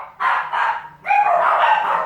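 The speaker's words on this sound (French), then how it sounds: "Ils jouent aussi, je les ai entendus grogner." Several dogs play together indoors, letting out loud, close barks and growls in two long bursts with a brief pause between them.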